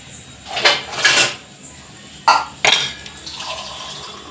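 Water is poured into a gram flour and onion mixture to make bhajiya batter, a few short splashy pours and clinks against a bowl, close and fairly loud.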